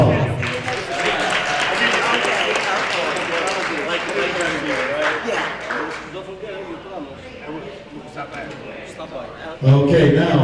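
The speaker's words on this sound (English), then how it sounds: "Let's give him another round of applause." Audience applause at a Christmas gala and awards ceremony, a broad wash of clapping from a crowd that carries on under and around a speaker's voice through the clip.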